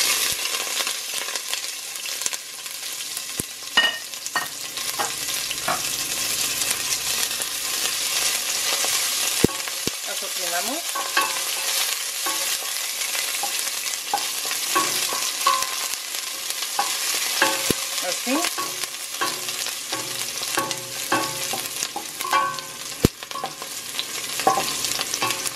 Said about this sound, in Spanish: Aquí en un sartén vamos a llevar aceite. Vamos a llevar la cebolla, los ajos y las especias a dorar.